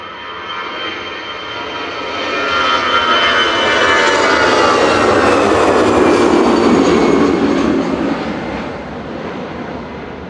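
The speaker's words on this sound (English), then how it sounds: "EasyJet to Faro's rolling now, flight 7502" An EasyJet Airbus A319 jet bound for Faro rolls for takeoff at Manchester Airport, its engine roar swelling from moderate to loud and holding steady with a rising whine before fading slightly at the end.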